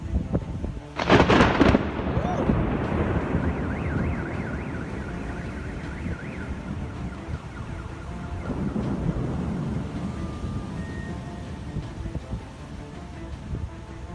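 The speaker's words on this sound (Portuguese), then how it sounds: "Veja de outro ângulo o que essa população iria sofrer minutos depois, com uma forte tempestade." A strong thunderstorm in Russia rumbles loudly and continuously, with a sharp, heavy crash early on and a wavering alarm-like tone faintly sweeping in the background.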